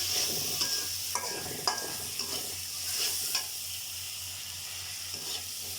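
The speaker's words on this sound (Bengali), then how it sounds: "মশলাটা ভালো করে ভুনে নেব তেলে" Spices fry in oil for a chicken curry with jackfruit seeds, a soft steady sizzle broken by several scraping stirs of a spatula against the pan.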